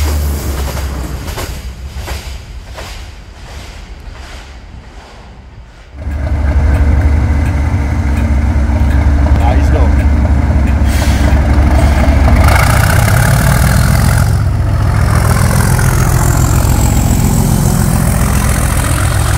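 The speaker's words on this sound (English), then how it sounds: "Back on the far north line again at Alness and 158718 with 2H72, the 1551, Invergordon to Inverness." A Class 158 diesel train, unit 158718, at Alness station in the north of Scotland, with rhythmic wheel clatter over rail joints easing off before a loud, sustained diesel engine drone takes over close by.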